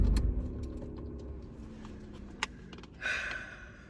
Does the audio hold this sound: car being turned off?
yes